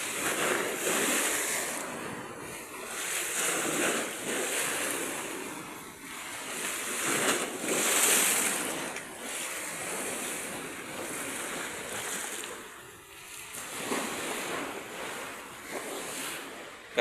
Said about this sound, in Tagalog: Galit na naman yung dagat.